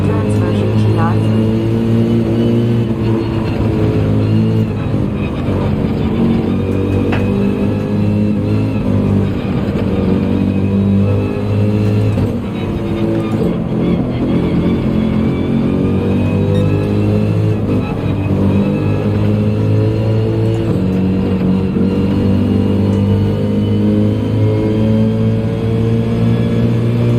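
A race car engine in Gran Turismo 7 at Suzuka drones loudly and continuously, its pitch climbing and dropping through upshifts, with a voice talking over it.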